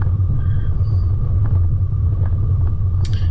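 Car driving along a hilly track, heard from inside as a steady loud low rumble of engine and road noise with a few faint knocks over it.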